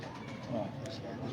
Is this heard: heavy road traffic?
no